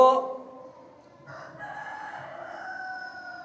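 A rooster's crow trails off at the start, then a second drawn-out, harmonic call carries on steadily, fairly close and clear over a quiet background.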